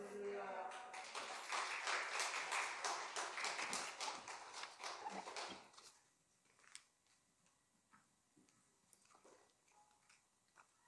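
A church congregation claps loudly and steadily to welcome a visiting pastor to the pulpit, the dense applause lasting about six seconds before stopping abruptly, followed by quiet room noise with scattered taps and a few faint voices.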